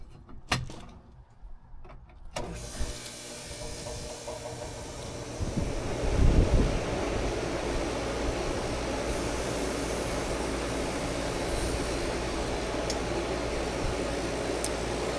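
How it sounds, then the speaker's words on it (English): An HVAC compressor runs steadily during an evening run test on a leaking system being recharged with refrigerant, a loud constant outdoor drone starting after a few seconds of quieter handling noise, with no talking. "Right now, that compressor sounds awful."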